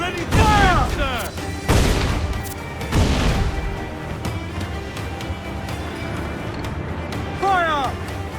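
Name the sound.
ship cannons firing in a naval battle, from video game Assassin's Creed 4 Black Flag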